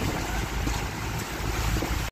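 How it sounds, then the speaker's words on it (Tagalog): Strong wind and choppy waves buffet a small boat on an island-hopping summer outing at sea, a continuous loud rushing roar with heavy wind noise on the microphone and no talking. "maka experience ta og bawd-bawd gamay kay murag kusog-kusog man ang hangin"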